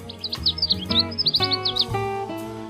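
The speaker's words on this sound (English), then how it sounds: "It's today's Talkin' Birds featured feathered friend, the Canada Warbler." A Canada Warbler (Cardellina canadensis) singing close and clear: several quick bursts of high, sweet chirping notes in rapid jumbled phrases, each run of a few syllables, over a steady background tone.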